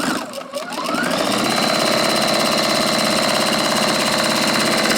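A sewing machine chain stitching quilt block pieces for a chevron spinner block: after a brief start, a continuous, loud, even mechanical whir and rapid clatter running steadily at close range.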